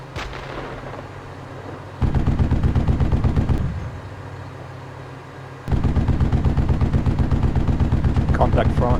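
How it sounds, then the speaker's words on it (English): Military video game combat with loud, rapid bursts of automatic gunfire in two long sustained stretches separated by a quieter gap, close and dominant, with brief faint voice chatter. "We're taking fire here."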